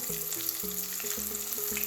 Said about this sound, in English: So now we are going to put these in the hot oil.